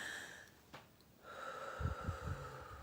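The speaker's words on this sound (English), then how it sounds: "Take a deep, deep breath in." A close, slow, deep breath drawn in through the nose during a calm guided relaxation, faint and airy, followed by a few soft low thumps.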